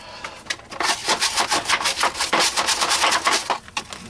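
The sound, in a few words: scrub brush scrubbing Miele vacuum cleaner parts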